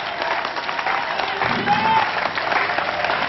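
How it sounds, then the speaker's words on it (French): A church congregation claps and applauds at an evangelical service, a steady dense wash of hands under a faint voice, with a brief sustained tone rising midway. "Applaudissez ça."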